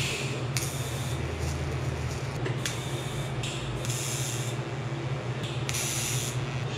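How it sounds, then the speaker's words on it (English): Welding joins sections of a custom 3-inch pie-cut turbo downpipe for a big single-turbo engine swap: a steady, close hiss over a low electrical hum, with brighter bursts of crackle flaring every second or so, and no talking. "we can start welding this together"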